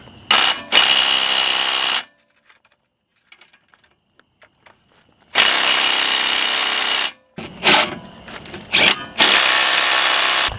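An impact-style power tool runs in loud bursts, tightening nuts on a thousand-dollar car: two long runs, a quiet gap with faint clinks, then a long whir and several short, sharp bursts close by.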